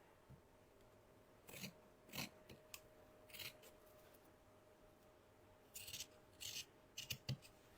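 Scissors snip through paper in short scattered bursts, a few quick crisp cuts, then a pause, then more, close and fairly quiet against a faint steady hum, with no talk.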